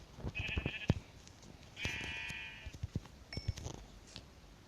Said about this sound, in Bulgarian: Ето овца.